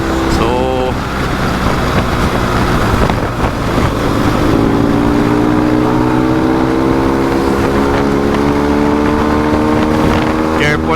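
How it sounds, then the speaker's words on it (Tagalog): A strong crosswind buffets a motorcycle on a highway touring loop through the Visayas and Mindanao in the Philippines: a loud, steady wind roar over a droning engine whose pitch climbs steadily through the ride. "grabe ka kusog kay sa hangin"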